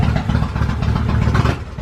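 A shaft-driven motorcycle engine idles nearby, a steady, loud low rumble with a fast even pulse and no voices.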